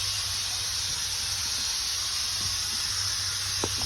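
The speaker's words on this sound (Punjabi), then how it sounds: "ਦਾਲ ਤੜਕਾ ਲਗਾਉਣ ਲੱਗੀਆਂ ਸੀਟੀ ਵੱਜ ਗਈ" Steady hissing of steam escaping from a pressure cooker whistle while dal cooks, a continuous broad hiss holding evenly throughout with a faint low hum beneath.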